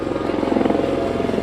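A helicopter flies over the festival grounds at Hampi near the Vittala temple, its rotor throbbing in a steady low, loud drone throughout.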